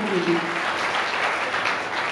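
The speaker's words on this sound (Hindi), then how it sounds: "एक बार जोरदार तालियां भामाशाह परिवार" Spectators at a district-level sports competition in Sujangarh give a short burst of hearty applause for an honoured family. The clapping is dense and even, with a brief voice at the start.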